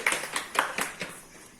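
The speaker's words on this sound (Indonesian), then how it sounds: "Beri aplaus kepada Nayansen" A classroom of students claps for a classmate, a brief scattered round of hand claps with a few sharp peaks that quickly thins out and fades.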